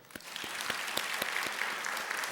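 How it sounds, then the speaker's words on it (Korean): Church congregation clapping in a brief, moderately faint burst of applause, individual claps audible over a dense patter. "우리 다시 한번 박수합시다."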